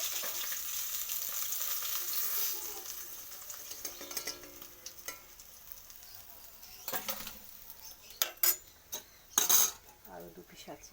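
Chara fish pieces frying in oil in a kadai, a steady sizzle in the first seconds, then quieter crackling broken by sharp metal spatula scrapes and clinks against the pan as the fried fish is lifted out.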